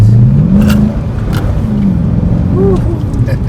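A Chevrolet Corvette pulls hard along a road, its engine note climbing steadily and loudly from inside the car, with rushing road noise throughout and a voice talking at the start.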